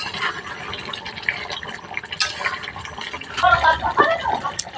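A pot lid lifts and chicken curry is stirred, with soft metallic clinks and wet, sloshing scrapes nearby while a voice talks over it.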